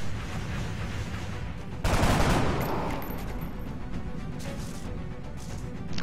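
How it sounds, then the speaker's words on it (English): Rifle fire in the video game XCOM: Long War: a sudden loud burst of gunfire erupts about two seconds in, then trails off into a rumbling wash of noise over steady background sound. "I think the most reasonable action is to shoot the suppressing enemy with a rifle, of course."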